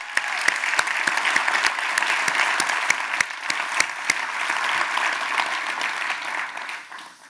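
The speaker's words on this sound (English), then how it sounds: "Please let's give them a round of applause." A gathering at a children's hospital partnership event claps loudly for young performers. The sharp, dense applause holds steady, then fades near the end.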